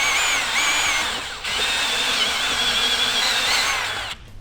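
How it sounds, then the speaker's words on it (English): A power drill whines loudly while boring a hole into a thin radiator on a Can-Am X3 race rebuild, its pitch wavering as it bites. It pauses briefly partway through, then cuts off near the end. "we're gonna drill a hole out on the radiator"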